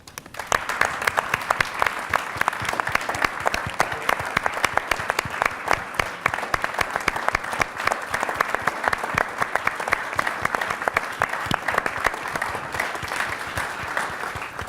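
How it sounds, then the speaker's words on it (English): A standing audience at a workers' pledge celebration applauds company employees with a long, even, dense round of clapping that holds steady and loud throughout without letup. "we'd love to give you a round of applause"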